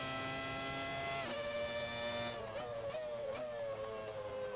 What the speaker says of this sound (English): I love the downshift sound in this car